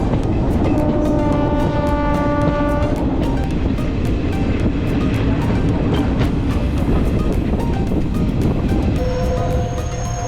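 A passenger train runs along the Kollam–Sengottai route in Kerala with a loud, constant rumble and rhythmic clickety-clack of wheels over rail joints, while horn-like tones sound near the start and again at the end.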